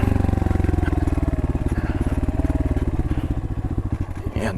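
Motorcycles roll down a mountain ride road toward a view deck in Dueg, Tarlac, a close, loud engine putting in a fast, even thumping beat that speeds and varies slightly near the end.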